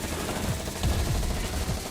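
A minigun fires in the Bullet League video game, a rapid rattling burst of shots running steadily and moderately loud amid busy game noise, with no talk.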